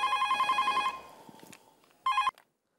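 A home telephone rings in a room, a loud repeating electronic trill in quick pulses that stops, then one more short burst of ringing after a pause.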